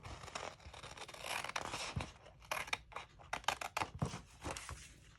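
Scissors cut through paper while an Easter basket is being made, quiet close snips and rustling in a quick irregular series, with no talk.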